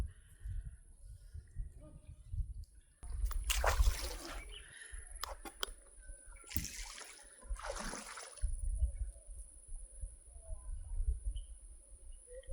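Wooden paddle strokes splash and drip water beside a small boat on the calm Rivière Noire at Adjarra, Benin, a few soft sloshes against a quiet low background.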